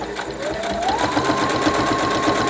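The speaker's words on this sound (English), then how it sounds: "I'm going to top stitch really close to the edge all the way around to close up" A sewing machine runs steadily, top stitching close to the edge all the way around a clear vinyl bag, a rapid even needle rhythm with a rising motor whine, near and continuous with no talking.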